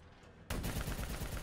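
Rapid turret gunfire in the Black Ops 3 campaign starts abruptly and continues as a loud, dense stream of shots to the end.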